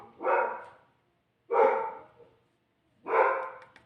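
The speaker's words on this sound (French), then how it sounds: "c'est mon chien maintenant." A house dog guarding the home barks three times, evenly spaced about a second and a half apart, each bark close and clear against near silence.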